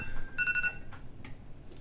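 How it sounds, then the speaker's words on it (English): A phone alarm going off indoors, a short bright repeating tone that stops abruptly, followed by faint rustling and handling noises. "that was my alarm to tell me to wake up from my day sleep"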